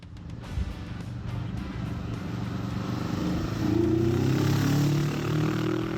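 A Kawasaki Vulcan S cruiser motorcycle engine idles with a low throbbing rumble, then revs up louder and steadier toward the end, heard alone at close range.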